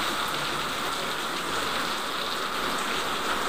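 Light rain falls steadily in a continuous soft hiss of drops pattering on surfaces, even and moderately quiet with no voices.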